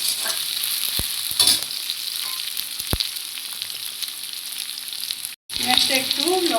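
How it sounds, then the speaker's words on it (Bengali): Onion, slit green chillies and tempering spices fry in a pan, a steady bright sizzle running throughout with a few soft stirring clinks and one brief dropout near the end. "এটাকে আমরা এবার ভালো করে ভেজে নেব।"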